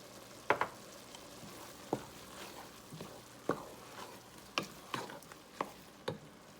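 Ground beef browning in a frying pan, a soft sizzle broken by repeated scraping stirs from a spatula at an uneven, unhurried rhythm.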